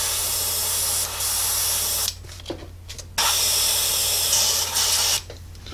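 An airbrush blows Vallejo thinner through during cleaning, giving loud, close bursts of spraying hiss that stop for a moment and then start again.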